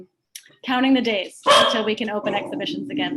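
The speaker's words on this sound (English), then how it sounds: "I apologize about my dog." A dog barks and yips in the background of a video call, its sharp calls breaking through while a person keeps talking over them.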